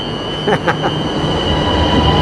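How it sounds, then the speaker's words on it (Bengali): A Milan metro train rumbles past close by with a steady loud roar, faint wheel squeal and a few brief clatters of the cars over the rails. "এটা হলো মিলানের যে মেট্রো রেল রয়েছে"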